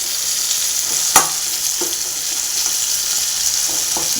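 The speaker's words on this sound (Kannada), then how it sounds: "ಈ ಥರ ಕಾಯಿ ಟೊಮೊಟೊ ಎಲ್ಲ ಚೆನ್ನಾಗಿ ಆಯಿಲಲ್ಲಿ ಫ್ರೈ ಆಗಬೇಕು." Grated coconut and tomato frying in oil while being stirred, a loud, dense, continuous sizzle close up, with an occasional utensil knock against the pan and no talk.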